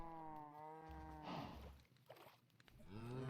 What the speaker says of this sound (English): Looks like I've got quite a lot of cows here.